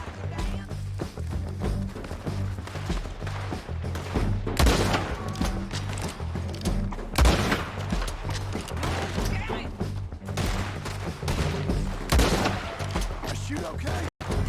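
Gunfire in Red Dead Redemption 2, a rapid barrage of shots and thuds in a western shootout, loud and repeated through the whole stretch, mixed with game voices shouting.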